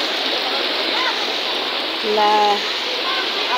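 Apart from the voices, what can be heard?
typhoon floodwater rushing in Samar, Philippines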